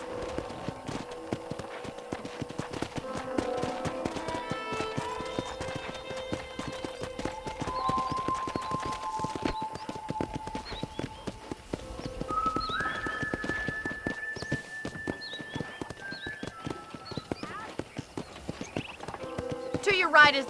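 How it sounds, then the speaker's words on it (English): Horse hooves clip-clopping at a steady walking rhythm in the Red Dead Redemption video game, continuous and fairly close, with a voice speaking over it and light music tones in the background. "let's see if you can still ride a horse"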